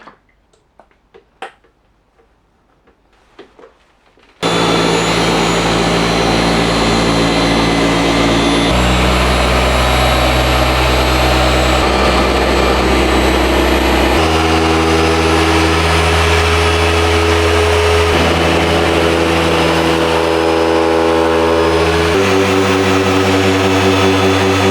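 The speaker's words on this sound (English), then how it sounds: "Onto the DA machine polisher." A dual action machine polisher working over a car door panel, a loud continuous motor whine that steps through several speed changes after a quiet opening.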